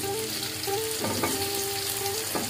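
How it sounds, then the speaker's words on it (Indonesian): Salted jambal fish and green chili stir-fried in a pan, a steady close sizzle with scraping stirs and a few clanks of the spatula, no talk. "Kita ditumis dulu ya."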